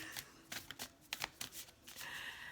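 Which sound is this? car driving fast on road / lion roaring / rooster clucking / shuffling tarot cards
shuffling tarot cards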